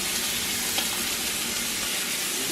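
Filet mignon steaks sizzle steadily in a hot pan, a continuous bright crackling hiss with no pauses or voices.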